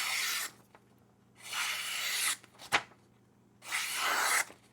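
A flat-ground knife blade slices through material in three long, smooth strokes, each a soft broadband swish with a faint click between the second and third cut, close and fairly quiet with no talking.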